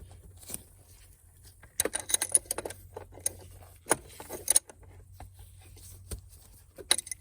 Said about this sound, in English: So I'm just going to use this crescent wrench, bring it around.